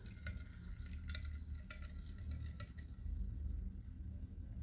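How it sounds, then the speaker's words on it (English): Tencel fiber being stirred in a dye pot gives a soft, steady sizzling wash, broken by light scraping and clinks, close and fairly quiet. "We've got to do a bit of stirring."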